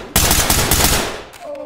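Rapid automatic gunfire in the tactical shooter Ready or Not, a loud, close burst of about a second of rattling shots that cuts off abruptly, followed by a faint tonal hum and a couple of softer trailing clicks.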